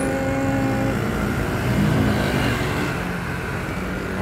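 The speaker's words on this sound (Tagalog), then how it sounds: "Meron tayong tricycle." A motorized tricycle engine rumbles steadily and close by, a continuous loud rough drone with no breaks.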